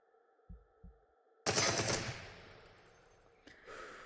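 In the VR game Into The Radius, a pair of low thumps is followed by a loud, sustained burst of automatic gunfire at a shooting range, then a fading tail and a brief clack.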